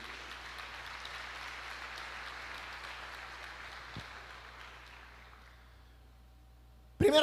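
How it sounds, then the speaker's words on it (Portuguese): A church congregation claps together in a steady, fairly distant wash of applause that gradually fades out, ending with a brief sharp noise. "Você pode aplaudir a Jesus"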